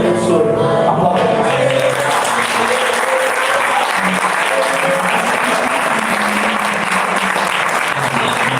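Congregation at a church service applauding together, loud, dense and continuous clapping filling the room for the whole stretch with no talk over it.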